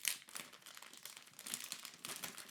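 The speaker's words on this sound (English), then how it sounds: "So let's go ahead and open up this clear plastic packaging." Clear plastic packaging being opened, with crinkling and crackling plastic in short bursts and a brief tear, close and fairly quiet with no talking.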